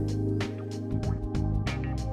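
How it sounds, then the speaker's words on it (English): Fresh water is poured into the tank of a De'Longhi ECAM fully automatic espresso machine, giving close, repeated splashy gurgles and drips over a steady low hum. "Fill to the max line with fresh water"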